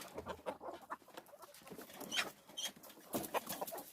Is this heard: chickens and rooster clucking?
yes